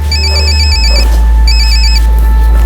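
A telephone rings loudly with a warbling electronic trill in two bursts separated by a short gap, over a steady low hum, with no voices.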